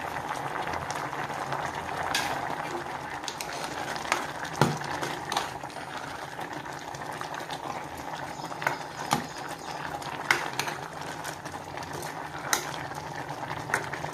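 Dal with gongura leaves, seasoned with salt, tamarind and garlic, simmers in a pot with a steady low bubbling hiss and occasional soft pops and clinks, close up and without speech.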